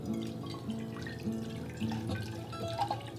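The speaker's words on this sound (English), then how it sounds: "Pour it in a pot." Port wine poured into a cooking pot for poaching pears makes a faint, steady liquid trickle, with soft drips over a low background hum.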